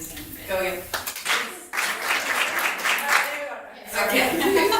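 A group claps a rhythm in a classroom-style music game, with a few claps at the start, then a dense burst of clapping, while people talk over and between them.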